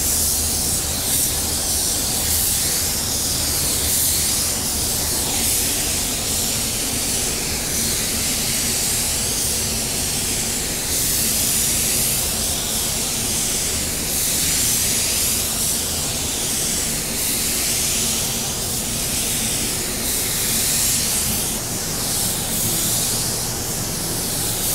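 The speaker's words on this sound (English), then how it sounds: "After spraying down that second coat, you want to spray it somewhat medium wet." A paint spray gun spraying car paint hisses steadily for a long stretch, a broad airy spray that swells and eases slightly in passes, with no talking.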